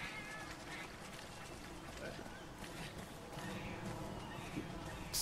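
Several cats meowing as they chase the player in the video game Monster Hunter 3 Ultimate, faint short mews set against busy game sound and music.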